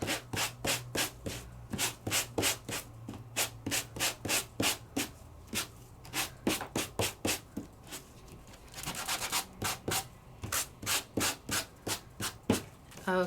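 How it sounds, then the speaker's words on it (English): Close, steady rasping strokes of a sanding tool rubbing back and forth over embossed paper in a quick, even rhythm, with a short pause midway. "my sanding gadget is taking off the sand or the paper"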